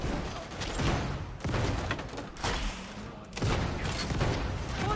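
Gunfire in a video game, with heavy bursts of shooting and booming blasts filling the clip in loud waves and short breaks between them.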